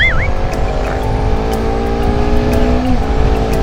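A Honda CBR250RR motorcycle in sport plus mode runs with a loud, steady engine drone at speed, recorded close from the rider's position with wind noise, pitch holding fairly constant.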